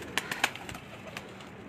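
Ali wala pigeons on a rooftop give a few soft, brief flutters and faint calls, scattered in the first half second and then sparse against quiet background.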